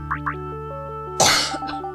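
A single loud cough breaks in up close over a constant low background hum, after two brief chirping blips.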